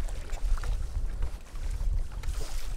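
A big wave strikes a kayak out on open water in strong wind. The near, sloshing water rushes and buffets without a break, and wind roars against the microphone throughout.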